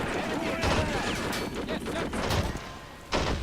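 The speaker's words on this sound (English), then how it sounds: "Alright, artillery is getting ready to fire." Battlefield gunfire and artillery in the WWII strategy game Men of War: Assault Squad 2: dense overlapping shots and crashing blasts, with heavier booms near the start, middle and end.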